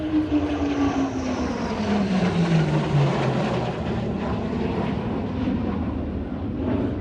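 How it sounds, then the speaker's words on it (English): A Chinese J-20 stealth fighter jet passing at an airshow in China, a loud, dense engine roar with a falling pitch as it sweeps by and sustained rumble throughout. "Here it is, the highlight of the airshow, the J-20. The first Chinese 5th generation fighter and their great pride."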